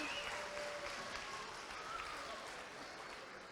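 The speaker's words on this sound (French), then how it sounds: "je vous demande tout au long de les applaudir très très fort" An audience at a school talent show gala claps in dense, steady applause that fills the room for several seconds, fading slightly toward the end.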